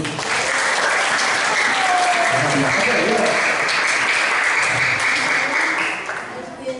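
Children and adults at a school session give a student a burst of sustained applause, dense and loud throughout before tapering off, with a brief spoken word mixed in.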